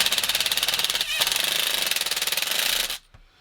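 A cordless impact wrench hammers lug nuts onto an Axial RC crawler wheel with BFG Baja tires, rapid rattling bursts up close, a short pause, then another burst before stopping.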